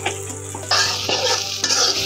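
Spicy beef cooks with chili powder in a hot pan, a close, bright sizzle cut by several scraping stirs of the spatula.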